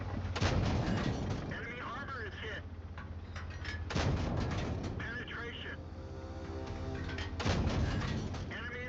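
Tank cannon shots in a tank battle video game, three heavy booming blasts spaced a few seconds apart, someone talking over the engine rumble between them.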